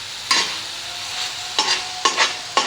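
Liver (kaleji) frying with spices on a tawa, with a steady sizzle broken by four sharp bursts of spatula stirring, close and clear, no talking.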